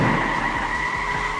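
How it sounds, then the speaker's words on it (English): Car tires skid and squeal loudly as a civilian car spins out after being bumped, a sustained close screech with no voices. "He accelerated and bumped into a civilian car, causing it to spin out"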